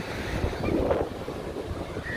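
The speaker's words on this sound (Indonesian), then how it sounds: "Iya, ombaknya semakin besar," Ocean surf rolling in at Bocor beach in Kebumen, Indonesia, a steady wash of breaking waves mixed with wind buffeting the microphone, continuous and close.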